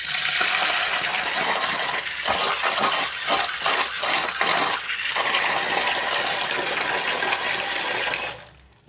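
Mung dal is washed in a bowl of water, with steady splashing and swishing punctuated by a run of quick, rhythmic sloshes in the middle before the water noise cuts off at the end.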